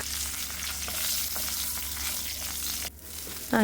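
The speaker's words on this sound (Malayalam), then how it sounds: "ഇതുപോലെ എണ്ണ ഒഴിച്ച് കൊടുക്കുക അതിലേക്ക് കടുക് പൊട്ടിച്ചിട്ട്" Steady sizzling of mustard seeds frying in hot oil, with a few faint pops, then a sudden quieter moment before a sharp sizzle returns at the end.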